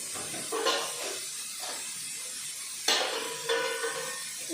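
Cumin seeds sizzle in hot oil during home cooking, a bright hissing crackle that flares twice with sharp bursts and then settles into a steady fizz.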